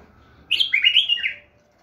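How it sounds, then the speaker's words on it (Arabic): A female bulbul gives one sharp, high, bright warbling phrase lasting about a second, close and clear against a quiet background. "شوف صوت ايش قد حاد، هذا التغريد النثي."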